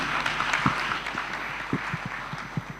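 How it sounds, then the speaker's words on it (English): Clapping from an audience at an environment day event, a continuous patter of many hands at moderate distance, fairly soft and even across the whole stretch. "Another round of applause for the AC, please."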